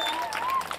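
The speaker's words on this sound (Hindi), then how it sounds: "एक जोरदार ताली इस कलाकारों के लिए।" Audience applause for performers at a staged drama show, a short burst of clapping that fills the moment at a steady level.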